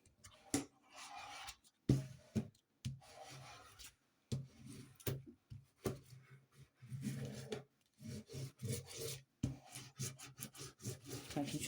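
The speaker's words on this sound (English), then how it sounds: "Let's burnish them down again." Stickers being burnished down onto a surface with short, close scraping and rubbing strokes, quiet and irregular, with brief pauses between bursts of friction.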